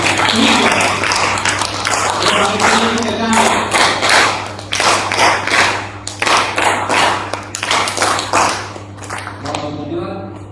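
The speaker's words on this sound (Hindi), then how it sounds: "इनके लिए जोरदार 3 तालियां" At a college sports day in Jalna, an outdoor crowd claps loudly in repeated bursts that rise and fall, with a steady electrical hum underneath and some voices mixed in.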